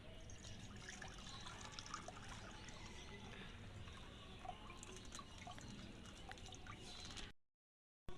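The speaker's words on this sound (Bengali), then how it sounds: "আমি এবার দুধটা ঢেলে নেব।" Milk pours into a container for a pineapple sharbat in a faint, continuous trickle with small drips that lasts several seconds, then stops abruptly.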